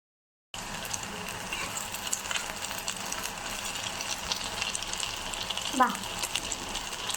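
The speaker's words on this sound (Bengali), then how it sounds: "কড়াই তেল দেওয়া হয়েছে, ভাজবে এবারে।" Food fries in hot oil in a kadai, a constant bright sizzle that starts after a brief silence and crackles on steadily, with a small stirring scrape near the end.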